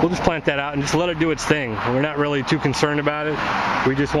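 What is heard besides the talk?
No everyday noise stands out behind the speech.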